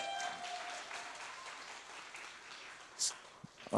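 Soft applause from a church congregation after a worship song, a faint wash of clapping that fades out, with a brief voice near the end.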